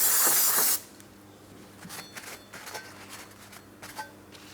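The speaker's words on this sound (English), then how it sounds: "I'm just going to go ahead and give it a quick rinse using some parts cleaner." Aerosol parts cleaner sprays in a loud, steady hiss as it rinses rear brake parts on a 2011-2026 Mitsubishi Outlander. A short burst cuts off abruptly, followed by faint dripping and small handling noises.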